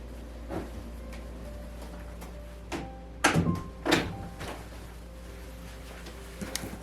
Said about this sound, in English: I just wanted to close the door so it doesn't get loud